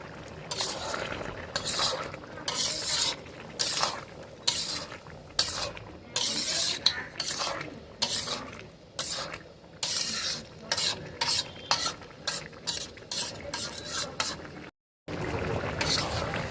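Mutton with tomatoes sautéed in a pan for a mutton curry, with rapid, repeated scraping and clattering strokes of a spatula over a continuous sizzle, loud and close, broken by a brief silent gap near the end.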